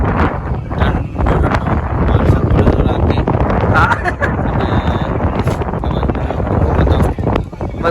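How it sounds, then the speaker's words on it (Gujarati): Wind gusts across an open rooftop terrace of a farmhouse, a steady broadband rush that swells and dips throughout, buffeting close to the microphone, with voices talking faintly underneath. "ખરેખર વાયરો મસ્ત આવે"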